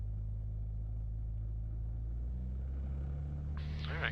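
Piper Cherokee light aircraft engine drones steadily from the cabin, a low harmonic hum with faint mechanical texture, joined near the end by a brief higher sound.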